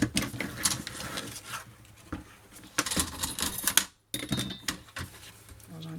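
Paper is cut for a Christmas scrapbook album with a run of close, crisp snipping and rustling strokes, a short pause, then more cuts.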